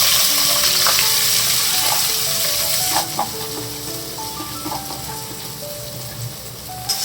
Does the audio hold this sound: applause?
no